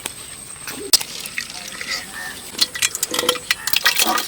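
Grapes being mashed by hand for homemade wine, wet squelching and sloshing near and fairly soft, growing busier toward the end, with voices talking over it.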